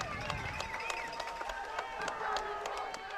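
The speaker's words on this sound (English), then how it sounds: "You hear the Mustang crowd making some noise for the first time" Mustang home crowd at a high school football game between Edgewood and Northview, a steady roar of cheering with scattered claps and shouts, sustained throughout, with some voices mixed into the noise.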